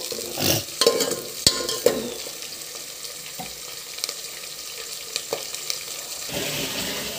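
Ingredients for a mutton, cucumber and fenugreek curry fry in hot oil until golden, with a steady sizzle broken by sharp scrapes and clinks of stirring near the start, then a softer continuous crackle; no one talks.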